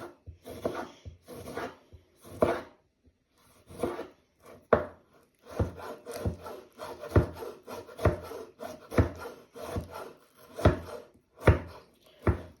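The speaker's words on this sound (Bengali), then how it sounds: "এখন টমেটো একটু কেটে নেব, একটা কুচি কুচি করে।" A knife chops a tomato finely on a cutting board, a series of distinct, close taps in an uneven rhythm, sparse at first, then quicker and more regular, with no voices.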